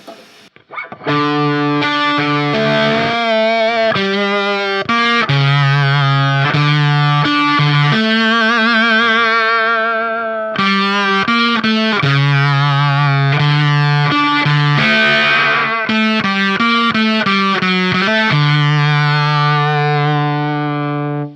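An electric guitar through a Walrus Audio Silt Harmonic Fuzz pedal at low gain plays a melodic line of sustained notes with a buzzy, sitar-like, octave-like tone, heard alone.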